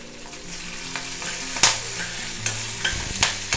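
Urad dal sizzles in hot oil with small shallots and green chillies, a steady close frying hiss broken by several scraping stirs and clinks of a spoon in the pan.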